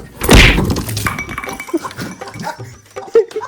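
Glass shatters loudly and close in one sharp crash near the start, followed by faint clinks, shuffling and a few soft animal sounds.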